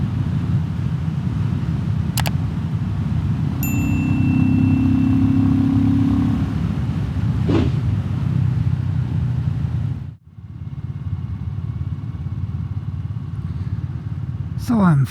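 Royal Enfield Classic 350 motorcycle cruising at road speed, its engine droning loudly and steadily under heavy wind buffeting while a rider talks over it, with a brief dip in the noise late on.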